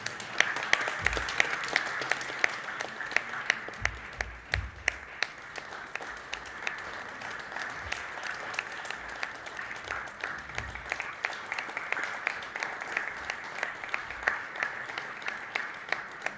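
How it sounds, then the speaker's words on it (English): A crowd applauds steadily through a logo unveiling for the BFSI Consortium launch, with dense, sustained clapping from an audience in a hall, fairly even in level with brief murmurs of voices underneath. "We can continue the claps going."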